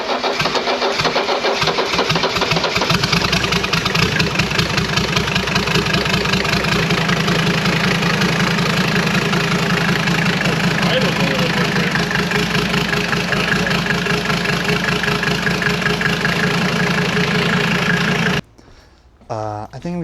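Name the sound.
Mercedes 300D diesel engine running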